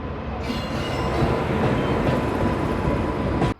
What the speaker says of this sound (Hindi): लो जी साथियों, धूल उड़ाती आ रही है श्रीगंगानगर नांदेड़ ओवरटेक के लिए अपनी ट्रेन को।